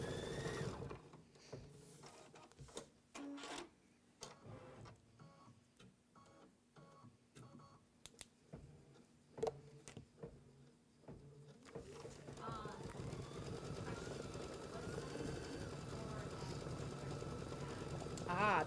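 An embroidery sewing machine stitches a zipper bag, starting after broken bursts of handling and moving into a steady, fast mechanical whir that runs continuously to the end at moderate volume.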